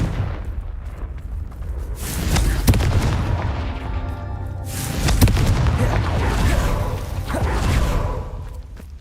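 Spell explosions from Confringo and Bombarda casts in Hogwarts Legacy on PS5, a series of booming blasts with whooshes, two larger bursts around the middle and end over continuous game noise.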